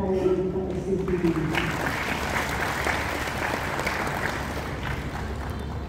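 A church congregation applauds a couple at their golden wedding anniversary service, with steady, dense clapping that fills the room throughout.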